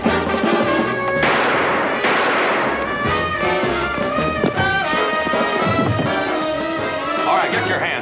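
Gunfire in an old-time crime radio drama, a loud rapid burst of shots and crashing impacts over dramatic music, sustained for several seconds.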